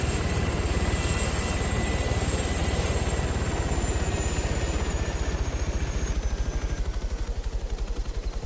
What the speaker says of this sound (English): Your helicopter's spinning? Yeah, and... Oh, that's why. What happened? My tail rotor is out.